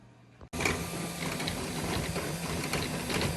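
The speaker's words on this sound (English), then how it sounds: "So the base is printing now." A 3D printer printing a display base starts up with a sudden onset of steady whirring and clicking motor and gear noise, close and continuous after a brief quiet moment.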